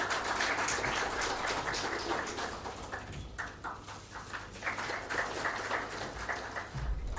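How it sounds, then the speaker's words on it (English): An audience at an education talk applauds to welcome a speaker with a steady, dense round of clapping that holds for several seconds, swelling slightly near the end. "Let us all welcome Heena Ben with a warm round of applause and a bouquet of flowers."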